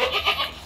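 A Sojat breed goat with big horns bleats loudly and close by on a goat farm as it is being caught, giving a few wavering, nasal cries in quick succession.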